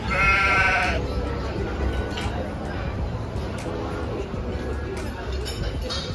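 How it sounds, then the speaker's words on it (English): Sheep bleating, with a loud, drawn-out bleat at the start over a steady wash of background noise and murmuring voices. "Sheep."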